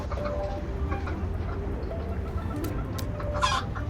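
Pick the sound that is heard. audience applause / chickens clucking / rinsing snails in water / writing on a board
chickens clucking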